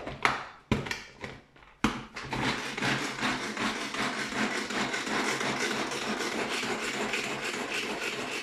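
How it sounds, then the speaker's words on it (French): Onion chopped in a Turbo-Tup manual pull-cord chopper: a few separate rasping, whirring pulls at first, then a continuous close, loud grinding chop. "on va mixer l'oignon."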